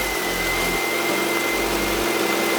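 A car engine filled with nacho cheese in place of oil idles steadily, its low hum broken by a few slight surges in pitch, alone with no talk.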